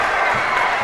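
A gym crowd at a girls high school basketball game between Loretto and Stewart County cheers and applauds after a made free throw, a brief, loud burst.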